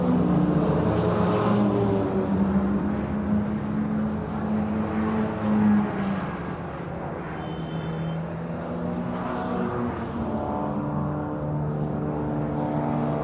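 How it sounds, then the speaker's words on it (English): MG Midget and Sprite Challenge race cars lap Brands Hatch Indy circuit in qualifying, their engines droning and revving as they pass at a distance, rising and falling over a continuous mechanical hum. "It's great to see these Midget Sprite Challenge cars take it to the track for the first time in 2021."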